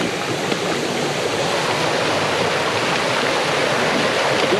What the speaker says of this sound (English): So it looks like here I can see the waterfall.